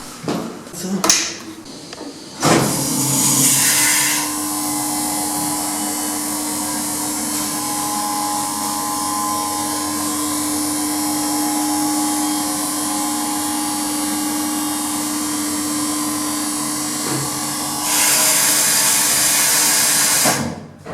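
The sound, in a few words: machinery running in a hotel motor room in Rome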